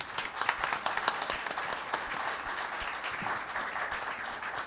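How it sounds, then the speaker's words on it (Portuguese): Audience applause at a Brazilian literary academy evening honoring a family, a fairly close, uneven patter of many hands clapping throughout, moderately loud with distinct individual claps standing out. "Palmas."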